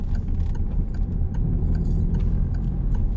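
A learner car's engine hums low and steady during a driving lesson with gear changes and clutch release, a continuous close rumble with faint tapping and rattling noises above it.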